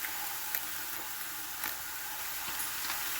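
Pork liver stir-frying with bean sprouts in a hot pan as oyster sauce goes in, giving a steady, close sizzle with a few faint scrapes and clicks from stirring throughout.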